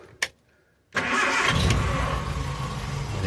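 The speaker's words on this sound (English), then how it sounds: "I'll start it up for you because engine's lovely." A Ford Zephyr MkIV V4 car engine cranks after a brief click, then catches and settles into a steady, close rumble that holds for a few seconds.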